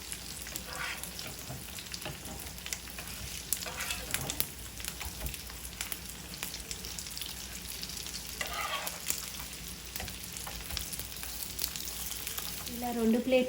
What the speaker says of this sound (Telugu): ఇలా రెండు వైపులా క్రిస్పీగా వేయించుకోవాలి